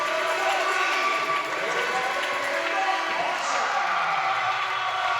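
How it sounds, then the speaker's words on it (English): A crowd in an indoor arena cheers and applauds as a player walks onto the court at a men's university volleyball championship final, a continuous wash of noise beneath a commentator's voice. "The crowd welcome him onto the court."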